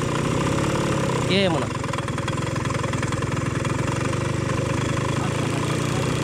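A small scooter engine idles with a steady, close putter while its fuel mixture is tuned, holding an even rhythm throughout; someone speaks briefly over it near the start.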